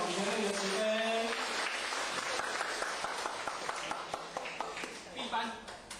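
An audience at a religious class ceremony in Taiwan breaks into applause, a dense wash of clapping that thins into scattered claps toward the end, with a voice speaking over it at the start.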